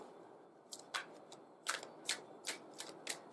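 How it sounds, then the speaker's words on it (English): Tarot cards being shuffled and pulled, with a series of soft, crisp riffles and flicks in an irregular rhythm against a quiet background, close and fairly faint, with no talk. "just want to pull some additional clarifying cards on these."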